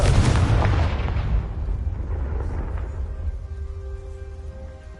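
The Confringo fire-blast spell detonates in Hogwarts Legacy, a single heavy booming explosion up close that rolls out into a long fading rumble, followed by faint sustained magical tones as it dies away.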